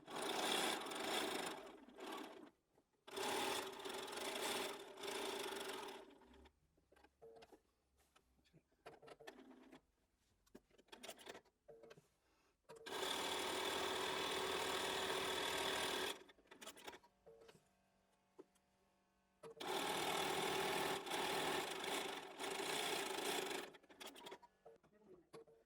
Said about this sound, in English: So with a 1/4 inch seam, I'm just going to sew all the way around the block.